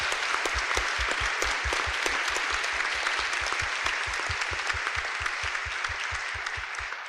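Steady audience applause after a panel discussion on state versus local control, dense even clapping that carries on for several seconds with no talking over it.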